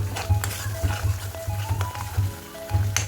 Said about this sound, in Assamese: ক্ৰীম দিলেও আপোনালোকে লগালগ অলপ ষ্টিমটো কমাই পেলাই এনেকৈ ফ্ৰাই কৰি দিব, লগালগ এনেকৈ লৰাই থাকিব অলপ দেৰি